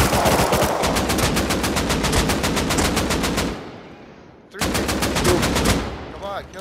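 Automatic weapons firing in the Rust console video game, rapid evenly spaced shots in long bursts, a brief pause, then another sharp burst, loud and close.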